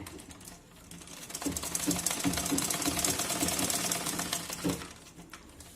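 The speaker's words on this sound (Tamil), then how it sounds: "எஜ்ஜில் வச்சு தைக்காம நான் மிடில் வச்சு தைச்சிட்டு வரேன்" A sewing machine runs steadily through slippery chiffon, stitching down the middle of the fabric rather than along the edge, with a continuous whirring motor and rapid needle clatter at close range.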